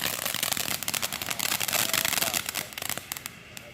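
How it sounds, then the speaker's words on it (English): Fourth of July fireworks bursting in a dense run of sharp crackling pops and bangs, loud and continuous across the clip, with a faint voice now and then. "we got more fireworks coming through"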